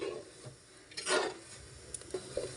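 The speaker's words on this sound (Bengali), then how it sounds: "চতুর মধ্যে কিন্তু শুরু থেকে শেষ পর্যন্ত নাড়াচাড়ার মধ্যে রাখতে হবে" A spoon scrapes and rubs around the inside of a pot of chatur madhu, a Bengali sweet, in a few uneven strokes, close by, with no talking.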